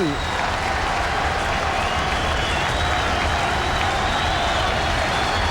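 Baseball crowd at Wrigley Field rising to its feet during a Mets at Cubs game, sustained loud applause and cheering that fills the ballpark steadily, with a commentator talking over it.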